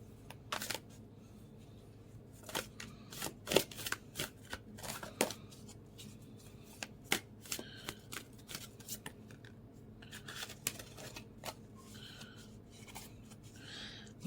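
A deck of oracle cards shuffled by hand, sharp papery snaps and flicks in uneven clusters across the whole stretch, close and fairly quiet, with no talking.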